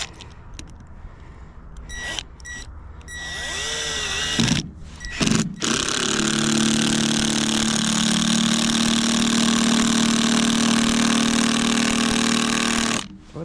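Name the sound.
drill drilling through wood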